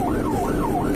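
An ambulance siren wails close and loud in repeating rising-and-falling sweeps while the vehicle moves to clear an intersection, with traffic rumble beneath.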